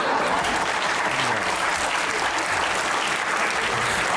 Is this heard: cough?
no